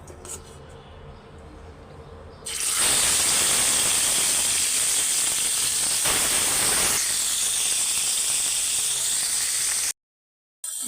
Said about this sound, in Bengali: মাছগুলা মশলা মাখায় নিছি, তো ভাজতে দিয়ে দিব। তেল গরম হয়ে গেছে।